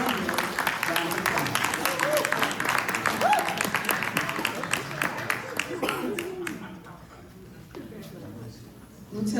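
A crowd applauds Army honorees at a 2025 ROTC Hall of Fame ceremony, dense steady clapping that fills the room and gradually thins out toward the end, with speech mixed in.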